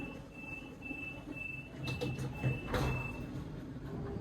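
Rumble of a train in motion heading to Sydney Airport, with a faint high tone and a brief rattling swell partway through; no talking.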